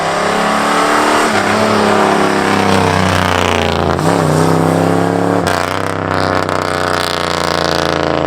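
A Peterbilt truck rumbling past on the road, its engine loud and steady for several seconds before the sound shifts as it goes by, with no voices.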